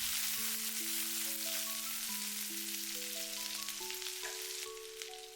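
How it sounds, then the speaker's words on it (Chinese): Chopped chili peppers with sliced ginger and garlic being stir-fried in a wok over low heat give off a steady broadband sizzle, with a stepped musical tune playing over it throughout. "接着把橄欖椒節也倒在鍋中，快速翻炒均勻，把橄欖椒炒出香辣味"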